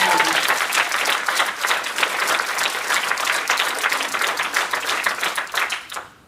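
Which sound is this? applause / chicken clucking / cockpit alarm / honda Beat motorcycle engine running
applause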